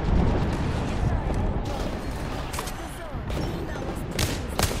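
Video game gunfire, a dense, continuous clatter of rapid shots and bursts with heavy low rumble, loud and close throughout, one volley swelling near the end.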